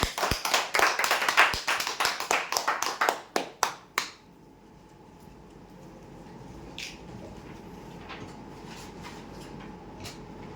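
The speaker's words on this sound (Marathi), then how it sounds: "जोरदार टाळ्या होत्या" Applause for a winner at a weekly prize draw, loud close clapping for about four seconds that stops abruptly, leaving quiet room noise with scattered faint taps.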